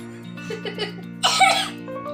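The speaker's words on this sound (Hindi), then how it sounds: "देखो जबरदस्ती की खांसी है इसकी" A few short, forced coughs, then a louder rasping cough-like burst, close up over a steady electrical hum.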